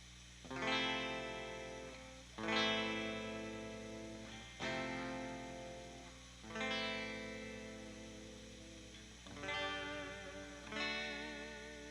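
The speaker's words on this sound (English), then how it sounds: "Here's what it sounds like through my Blues Junior with the master volume set to about 5." A 1960s Yamaha SG-5A electric guitar played through a Fender Blues Junior amp with master volume around five; five or six sustained chords strummed in turn, each ringing out and decaying, fairly quiet and low in output under steady amp hiss.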